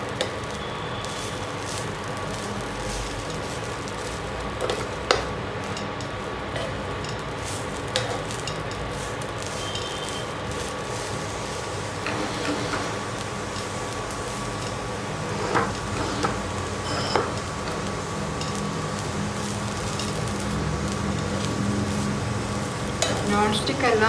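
Coconut chutney powder frying and being stirred in a pan until golden brown, a steady continuous sizzle with scattered scraping stirs and clinks throughout, fairly close.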